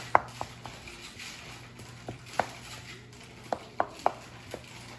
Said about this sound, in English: get a fork and I'm gonna poke some holes in this